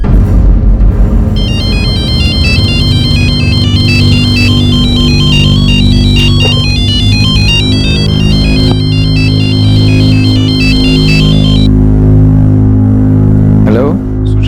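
A telephone ringtone plays loud and close, a repeating electronic melody running for most of the stretch over a steady background hum, then cutting off near the end.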